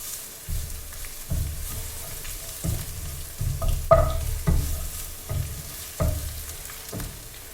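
Mushrooms are added to onions and garlic cooking in a pan, with rhythmic thumps and scrapes from a utensil stirring about once a second over a soft frying hiss. No talking.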